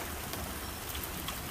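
Hail falling outside during a storm, heard as a steady, dense patter of small impacts like heavy rain on a surface, constant and fairly faint throughout with no voices.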